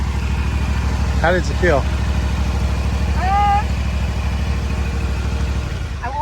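A zero-turn lawn mower's engine idles with a steady low mechanical rumble, close and constant, while people talk briefly over it.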